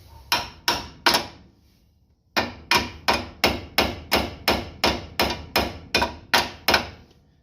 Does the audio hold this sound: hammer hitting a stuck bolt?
yes